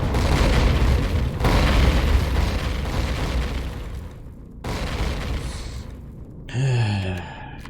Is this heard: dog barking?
no